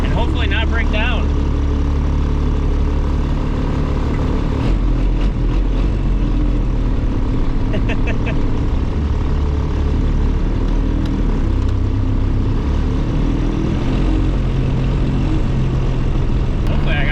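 A diesel Camaro cruising on a road trip gives a steady, loud drone of engine and road noise that fills the whole stretch, with talking over it.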